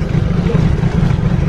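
A fuel-injected motorcycle engine idles roughly and unsteadily, a loud, close, continuous low rumble with a slightly wavering churn.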